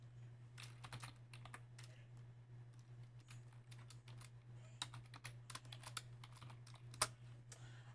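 Keys on a TI-Nspire calculator keypad are tapped in quick irregular bursts of soft clicks, close and faint over a steady low electrical hum.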